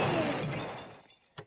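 Glass shatters in the video game Destroying Simulator: a loud, bright crash right at the start that crumbles and fades over about a second, followed by a small crisp tick just before the end.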